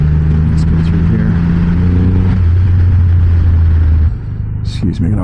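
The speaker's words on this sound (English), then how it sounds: "You just hit the throttle and it kicks right up and goes." A Triumph Rocket 3 GT power cruiser engine rumbles loudly on throttle with a steady, rising growl held for about four seconds, then drops off as wind and light handling noise take over, with possible talk over it.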